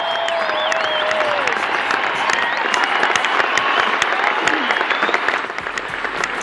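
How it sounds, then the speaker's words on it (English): Arena crowd applauding at a Roger Federer and Friends tennis exhibition night, a loud sustained wash of clapping with some cheering and whistles, continuous for the whole stretch. "That's not applause for me or the podcast. That's actually from the Roger Federer and Friends Night."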